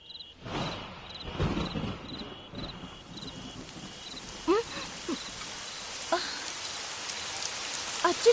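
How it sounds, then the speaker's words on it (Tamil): Rain begins falling in steady broadband patter during an outdoor scene in a Tamil TV serial, with a few sharp drop hits and brief voices partly under it. "அச்சோ மழை வந்துருச்சே."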